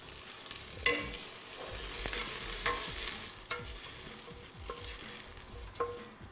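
Lentils and rice sizzle and crackle steadily in a hot pan, with occasional scraping knocks of a spoon stirring; no voices.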